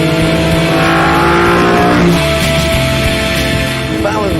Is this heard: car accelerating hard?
yes